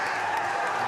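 At a schools 3x3 basketball national final, the crowd sends up a loud, dense wash of cheering and applause that stays steady across a very brief moment.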